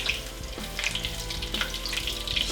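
Halibut fillet frying in a hot pan, a steady close sizzle with crackling pops running throughout.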